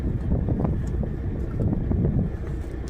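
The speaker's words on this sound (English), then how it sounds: "It's windy out here." Wind blows outdoors while an RV trailer is being picked up, and gusts buffet the microphone with a loud, continuous low rumble and uneven surges. No voices are heard.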